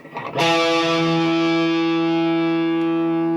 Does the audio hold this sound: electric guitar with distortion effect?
yes